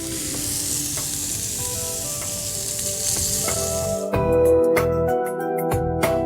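Chicken kebabs sizzle steadily in an oil-greased pan, a dense, continuous frying hiss, joined toward the end by several sharp clinks and taps of utensils against the pan.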